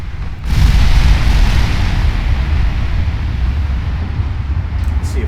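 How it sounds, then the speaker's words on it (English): 18-inch naval guns firing in Ultimate Admiral Dreadnoughts, one loud deep boom followed by a long rumbling roar that slowly fades. "Those 18-inch guns, they really hurt."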